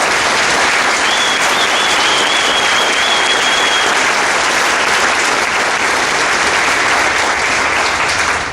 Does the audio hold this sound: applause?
yes